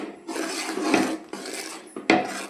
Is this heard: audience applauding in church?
no